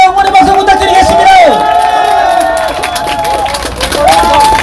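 A large crowd at an outdoor protest rally at Seoul Station claps and cheers in a sustained, loud roar, with raised voices and whistle-like tones rising and falling over the dense crowd noise throughout.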